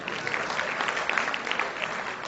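A seminar audience on bank audit claps steadily, many hands producing a dense, even patter of applause that holds at a moderate level throughout.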